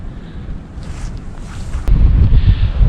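Strong wind buffets a tent campsite beside a lake at Lake Carlos State Park, roaring against the microphone in rough gusts. It becomes noticeably heavier and louder partway through.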